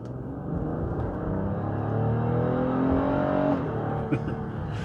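A 2020 Acura MDX Hybrid SUV's front-mounted combustion engine, assisted by electric motors, accelerates with a steady, rising engine note that climbs in pitch over several seconds before easing off, heard close and fairly loud.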